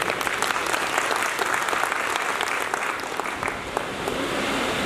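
Loud, sustained applause from an audience welcoming participants to a debate program, a dense wash of clapping that holds strong for the whole stretch with no voices over it.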